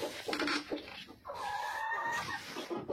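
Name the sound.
guinea fowl calling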